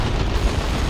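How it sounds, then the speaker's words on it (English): A grenade explodes in the real-time strategy game Warhammer 40,000: Dawn of War 2, with a loud, dense low rumble of blast that fills the whole second with no speech. "There's a nice grenade from Gullibaloo's."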